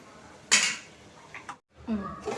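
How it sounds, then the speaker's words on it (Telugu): A metal lid is set onto a cooking pan with a sharp clatter, followed by faint kitchen clinks, and a voice speaks over the quieter parts. "మూత పెట్టేసుకుందాం."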